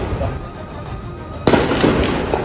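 Gunfire at the Jenin refugee camp during a clash outside the camp: one sharp crack bursts out midway over a noisy background, then dense, rough commotion keeps going. Faint voices may sit underneath.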